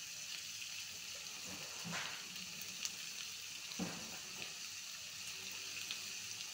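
Turmeric, salt and chilli powder fry in hot oil with a faint, steady sizzling hiss, broken by a couple of soft stirring knocks.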